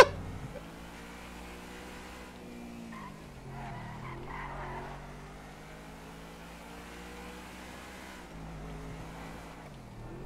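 A car skids through a street race in the GTA 5 video game, its revving engine whining steadily under a long tire squeal that holds for most of the stretch, loud and close with no talk.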